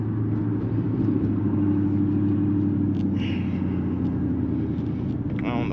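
A Chrysler 300C drives on a road, producing a steady, continuous low engine and road rumble heard from inside the car throughout.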